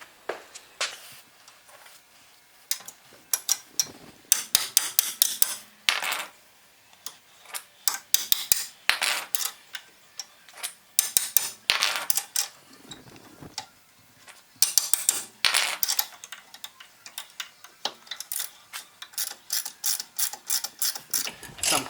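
Work on the front shock nut of a 2010 Mazda3 with a tool produces close, sharp metallic clicks and taps in irregular clusters and quick rhythmic runs, separated by brief quiet gaps.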